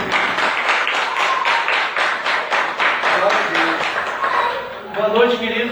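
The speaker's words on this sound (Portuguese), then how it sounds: "Vamos aplaudir o Senhor Jesus." A church congregation claps together in a steady, sustained round of applause that fills the room, fading slightly before a voice begins speaking at the end.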